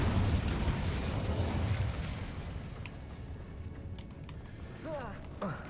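In the video game Hogwarts Legacy, an Incendio fire spell bursts with a loud whooshing blast that fades into crackling rumble, with clicks and a brief whistling tone near the end.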